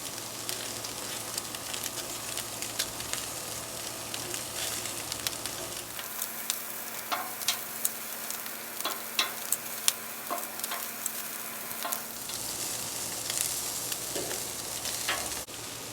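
Teriyaki meatballs sear in a hot pan with a steady, close sizzle and occasional sharp pops and crackles, the frying easing briefly in the middle before swelling back to full strength.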